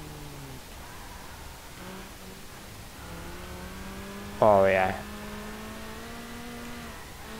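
Car engine in Need for Speed Underground driving with rising and falling revs, a steady harmonic drone with a brief loud burst midway, and a short spoken exclamation over it.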